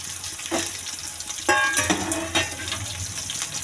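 Jackfruit curry frying in a pan, a continuous sizzle with occasional stirring scrapes and short bursts of louder crackle, close by and without talk.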